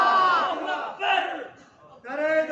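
A crowd at a religious gathering chants slogans in three loud, drawn-out voiced bursts, the massed voices swelling, dropping briefly between calls, then rising again.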